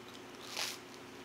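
A single short crunch of someone biting into crunchy toast made in a 1940s toaster, one brief dry crackle near the middle over a quiet room background.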